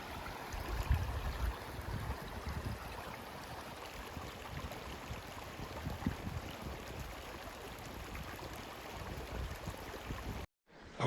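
A stream flows at a river crossing in Molino Basin, a steady broadband wash of running water, moderately close and continuous, ending in a brief dropout.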